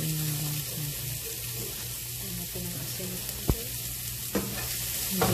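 Onions and garlic stir-fry in oil in a wok for chop suey, a continuous close sizzle with a couple of sharp metallic clicks from the stirring utensil striking the pan.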